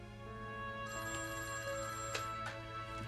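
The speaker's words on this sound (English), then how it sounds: "As they started to eat, I walked over to the telephone to dial Stan." A household telephone rings with a steady electronic warble against a faint hum. The ringing goes on evenly for several seconds and is heard at a moderate distance, with no talk.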